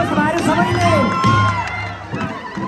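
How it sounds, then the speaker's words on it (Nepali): A crowd at the Nepal Festival in Federation Square, Melbourne cheers and whoops for the chief guest, loud shouts and voices rising over clapping, close and lively throughout. "उहाँको लागि पनि एकचोटि जोरदार ताली बजाइदिनुहोस् भाइहरू सबैले"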